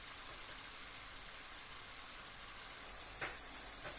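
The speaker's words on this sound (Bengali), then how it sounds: "টমেটোটা সুন্দর করে কষায় নিব" Tomatoes with garlic and chili fry in a pan with a soft, continuous sizzle and crackle, fairly faint, with a couple of brief sharper ticks near the end.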